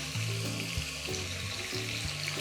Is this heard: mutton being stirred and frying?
yes